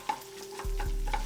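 Sage sausage patties frying and being stirred in a pan: close scraping strokes in an uneven rhythm over a steady sizzle, with no voices.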